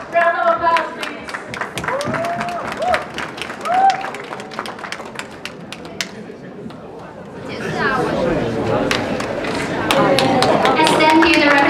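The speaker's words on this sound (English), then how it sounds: "Let's give her great applause. Round of applause, please." Audience applause fills a hall at a United Nations evening event honoring a chairman, dense clapping swelling and continuing under scattered voices and crowd chatter, growing fuller toward the end.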